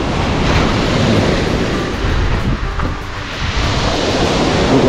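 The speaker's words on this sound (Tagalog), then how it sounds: "Ang lakas pa rin ng alon," Strong sea waves washing onto a rocky shore near a beach hut, a loud continuous roar of surf mixed with wind buffeting the microphone, with a slight dip midway before surging again.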